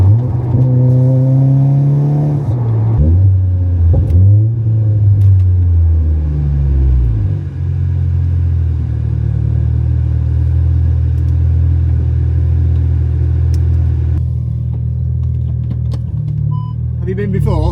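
A tuned 620bhp Audi S3 8V revs hard and pulls away on a drag run, its loud engine note climbing in stepped gear changes before settling into a steady high roar, with voices talking over it.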